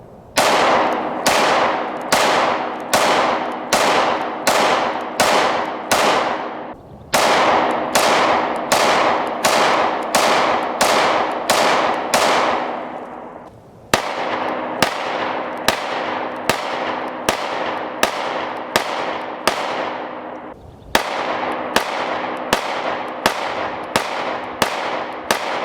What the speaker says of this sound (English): We're going to shoot the original Shield and the Performance Center Shield with the ports side by side